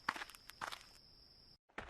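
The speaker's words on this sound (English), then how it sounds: "Lord Hong heard soft footsteps." Soft footsteps in an indoor storytelling scene, a few light steps close by with a faint steady tone behind them, a short pause, then another step.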